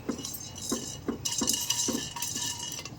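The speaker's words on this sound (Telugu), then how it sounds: "మిరియాలు వేసుకుని కొంచెం ఒక్కసారి ఇలా వేయించేసుకుందాం" Peppercorns frying in a hot pan for a buttermilk curry, with a series of sharp, closely spaced clinks and scrapes at a steady rhythm, close and moderately loud.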